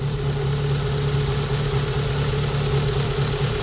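A Rover 25 GTI engine with a high, rough idle and over-fuelling runs close by as a steady, loud drone with a constant hum and no talk.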